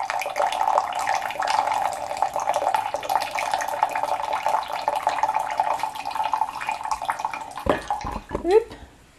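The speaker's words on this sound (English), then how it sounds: "I'm going to pour it into my cup." Liquid pours steadily into a cup for several seconds, a continuous close trickling stream that stops near the end with a couple of small splashes and a faint clink.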